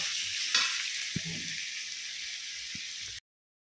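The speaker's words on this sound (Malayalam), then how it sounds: "നല്ലപോലെ ഒന്ന് ഇളക്കി കൊടുത്താൽ മതി" Onions sautéing in a pan, a steady bright sizzle with a few soft knocks and scrapes from stirring, cutting off abruptly near the end; no speech.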